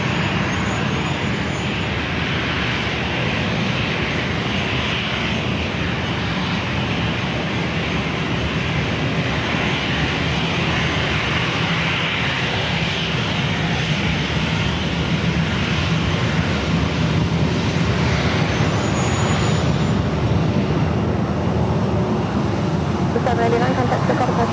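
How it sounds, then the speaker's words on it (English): A Delta Airbus A321 jet takes off at San Diego airport with a sustained broadband roar that builds slightly toward the end, a high whine audible at moments, and faint background voices. "The Delta A321 up next for takeoff"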